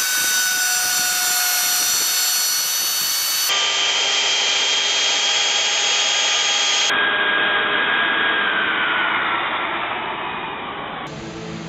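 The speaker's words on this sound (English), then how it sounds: "I'm taking the router and I'm shaving them with a copy bit" A router fitted with a copy bit trims rosewood chest boards, giving a loud, continuous high-pitched whine that shifts in tone in several distinct steps as it cuts.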